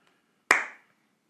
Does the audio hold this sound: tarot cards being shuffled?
no